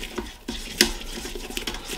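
Brisk whisking of a white sauce with a plastic-coated whisk, giving soft rhythmic scraping and light taps against the pan, close and moderately quiet.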